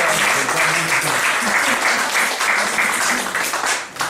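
Church congregation applauding to acclaim the Lord at a prophet's gathering, a dense steady wash of clapping running throughout with voices mixed in, tapering briefly near the end.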